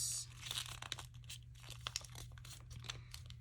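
Paper being folded and creased for an origami fortune teller, quiet close crinkling and crunching with soft scraping pinches, faint and irregular.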